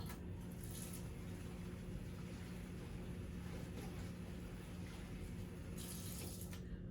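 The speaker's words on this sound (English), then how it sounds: "Then I need to rinse the basin." Water runs steadily from a faucet into a basin, a continuous hiss with small splashing surges, close and moderately loud.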